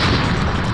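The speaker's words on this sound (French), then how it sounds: "Ça fait une bombe, hein?" A bomb explodes in Super Smash Bros, a short, loud, dense boom that fills the whole moment with low rumble and no voices.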